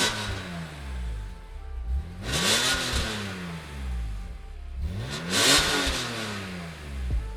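A BMW E46 M3 with a 3.2-liter straight-six makes 252 kW, shown in its engine note at a Winelands Coffee and Cars meet. It revs twice up to a sharp peak, with rising and falling pitch sweeps and a steady idle rumble between the revs.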